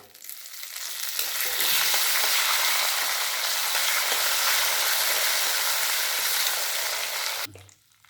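Dried chillies, peanuts and curry leaves frying in hot oil for Iyengar puliyotharai, a loud steady sizzle that holds for several seconds and then drops away.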